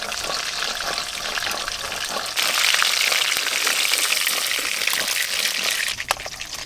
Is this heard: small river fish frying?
yes